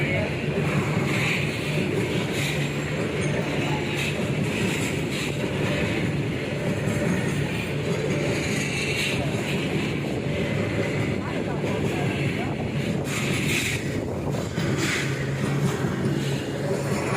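A train at Balangir railway station rumbles steadily nearby with a continuous low rolling drone and occasional clanks, while people talk over it.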